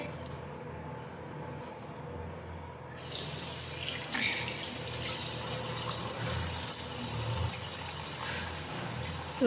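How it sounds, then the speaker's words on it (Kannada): A tap runs steadily into a sink during a face wash, a continuous close splashing flow with a few louder splatters and drips along the way. "ನೀಟಾಗಿ ಒಂದು ಫೇಸ್ ವಾಶ್ ಮಾಡ್ಕೊಳ್ತೀನಿ"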